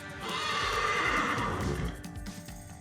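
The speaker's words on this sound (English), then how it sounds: "a white horse would appear at the door of a Mexican cabin in some lonely spot and neigh" A white horse neighs in a long, loud whinny that rises and then trails off, with faint hoof clatter underneath, heard close and alone with no voices.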